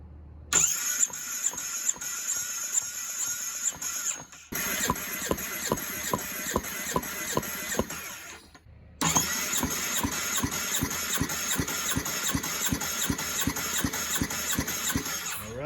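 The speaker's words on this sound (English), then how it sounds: "this way we can manually turn over this motor to make sure we get our compression reading" Ducati V4 motorcycle engine from a crashed bike cranked over by the starter for a compression test, a rapid, even chugging rhythm with no firing, stopping briefly twice before resuming.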